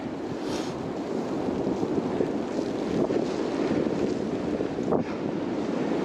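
Wind roaring during a blizzard while riding a fat bike on a snowy trail: a continuous loud rushing buffet fills the whole stretch, with gusty swells and no voices.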